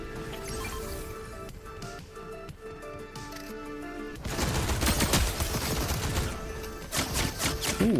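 Gunfire in the Fortnite video game, with a burst of rapid shots starting midway and continuing loud and dense over steady background music.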